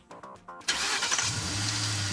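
A starter cranks in short rhythmic bursts before a car engine with an automatic transmission catches and settles into a steady, close idle.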